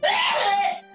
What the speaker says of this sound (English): That sneeze is louder than you talking, honey.